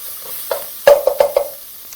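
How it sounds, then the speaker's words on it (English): Heaped teaspoon of garlic sizzling in a pan at the start of a veggie rice and soy stew, with a soft crackle under several sharp scraping stirs close by. "just as soon as the garlic begins to sizzle"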